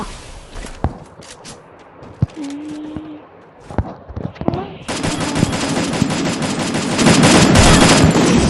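Gunfire in the mobile battle game Free Fire, scattered single shots and footsteps giving way to loud sustained automatic fire, close and dense, with brief game sound effects mixed in.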